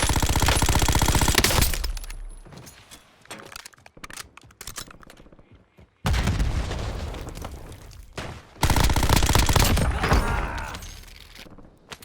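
Loud bursts of automatic gunfire in a video game, long rattling volleys with a quieter stretch of scattered shots and pops between them.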